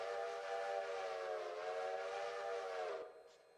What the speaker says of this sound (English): We can quill the whistle by holding V and moving the mouse up and down.